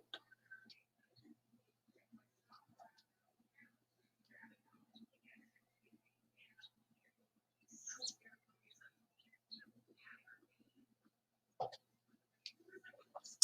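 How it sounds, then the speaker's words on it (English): Faint, scattered chirps of birds calling from a distance, with sparse ticks and soft thumps in an otherwise quiet space. "there was birds outside calling"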